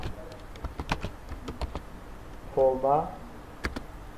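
A command is typed on a computer keyboard as a series of irregular, crisp keystroke clicks, some close together and some spaced apart, with a brief voice speaking partway through.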